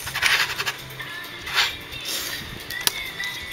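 A plastic part of a 1/100 Master Grade Sinanju model kit, the back skirt, snaps into place with a brief sharp click near the end, following soft handling and scraping of plastic pieces.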